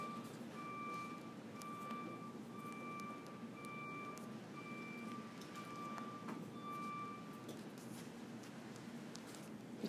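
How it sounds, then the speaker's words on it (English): A truck backs up with its reversing alarm sounding evenly spaced beeps, several regular pulses at moderate distance over a low rumble of engine and outdoor background. "Between the trains and the truck backing up, I might go crazy today."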